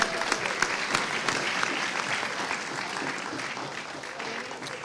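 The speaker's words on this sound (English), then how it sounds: "Let's give it a round of applause." Steady applause from a large school audience at a spoken word event fills the whole stretch, dense and continuous with a few sharper claps standing out.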